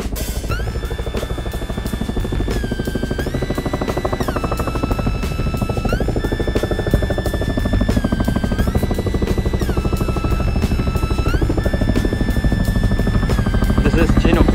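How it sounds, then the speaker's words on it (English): A loud, close Chinook helicopter roars steadily, its rotor chopping rapidly beneath a shifting high-pitched turbine whine that holds throughout. "American helicopter."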